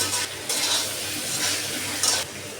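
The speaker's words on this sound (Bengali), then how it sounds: "এখন আমি চাল কুমড়াটা সুন্দর করে কষিয়ে নেব।" Ash gourd pieces are sautéed with spices in hot oil in a pan, making a close, steady sizzle with a few brief scraping stirs. No voices are heard.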